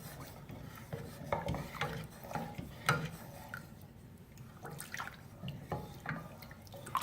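Rice kheer mixture with custard being stirred in a pot, soft wet scraping and rubbing strokes in an irregular rhythm, close and quiet with no talking.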